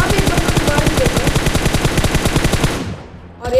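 Loud, rapid automatic gunfire in the mobile shooter BGMI, a fast steady burst of close shots lasting almost three seconds that cuts off abruptly, with a brief noise afterward.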